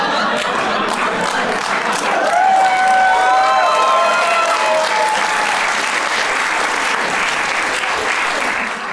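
A comedy club audience at a stand-up special gives sustained, dense clapping that swells and holds steady, with a few whoops and cheers mixed into the wash of hands.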